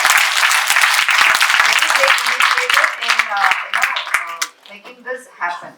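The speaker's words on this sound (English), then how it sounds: "Let's give a big round of applause to the coordinator" Students applaud a coordinator at a college business plan competition, dense loud clapping from a crowd that thins out and fades, with a speaker's voice coming in near the end.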